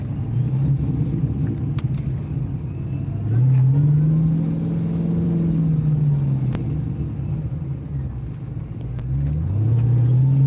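A Dodge Demon 170 engine with a strange, air-compressor-like sound runs close by, a steady low rumble that swells into a louder rising and falling drone partway through and builds again at the end.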